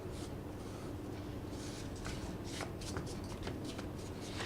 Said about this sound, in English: Then I'm gonna fold it again.